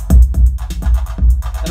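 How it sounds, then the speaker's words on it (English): A mellow Roland TR-808 kit on a Roland Aira TR-8 drum machine, deep, rounded kick drums and soft, snappy hits repeating in a steady groove, loud and close. "have a TR-808, which is the sort of more mellow one"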